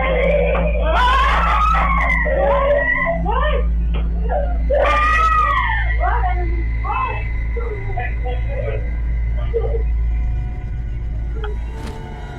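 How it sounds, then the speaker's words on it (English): A daughter screams, wails and sobs through a panic attack in the middle of the night, rising and falling cries repeated over a low steady hum, loud and close. "this footage of his daughter having a panic attack in the middle of the"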